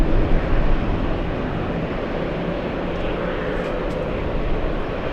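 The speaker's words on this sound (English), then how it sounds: "It's the Irish Aer Lingus 133, a 6-hour flight for the A330." Aer Lingus Airbus A330 airliner on short final approach, a continuous rumbling jet roar, fairly close and steady, slightly louder at the start, with no voices.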